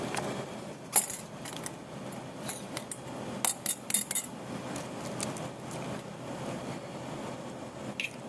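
Eggs cracked against a bowl with yolks separated out for a chocolate cream pie: a few sharp, close taps and clicks, some in quick clusters, over a quiet room with no talking.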